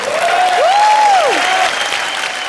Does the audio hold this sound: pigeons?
no